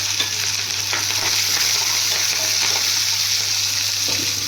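Curry leaves fry in hot oil in a pan with a steady, bright sizzle that holds evenly from start to finish, close up and unbroken.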